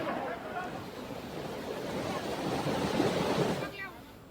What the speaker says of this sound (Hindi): तेज बहाव के साथ पानी यहाँ पर इन नालों में बहता हुआ नजर आया है